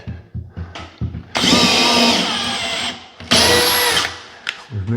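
Power drill driving screws into timber during a rapid repair, two sustained whining bursts of about 1.5 and 0.7 seconds, close and loud, separated by handling knocks and brief quiet.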